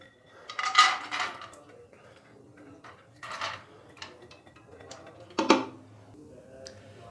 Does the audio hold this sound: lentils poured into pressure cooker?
yes